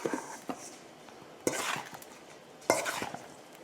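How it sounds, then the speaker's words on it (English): Chicken pieces being mixed in a bowl to coat them, with three sharp utensil knocks on the bowl between steady soft stirring and scraping, close and without speech. "I'm going to mix this up some more until all the pieces look coated."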